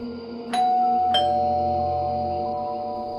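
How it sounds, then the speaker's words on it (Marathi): A doorbell rings twice, two bright chiming tones with a lingering ringing hum, close and clear over a quiet background. "डोअरबेल वाजवली"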